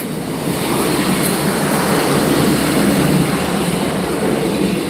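A Class 156 diesel multiple unit bound for Grimsby Town passes close by in Lincoln, a loud, steady rumble and roar of engine and wheels lasting throughout with no pause.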